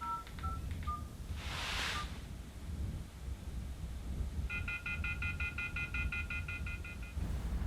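Telephone number dialed on a phone on the Falkland Islands, short touch-tone beeps at the start and then a steady rapid run of dialing tones, all over wind and outdoor background noise.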